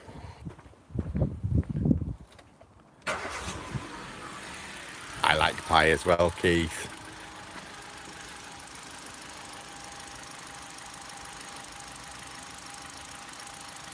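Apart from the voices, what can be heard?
car engine starting and idling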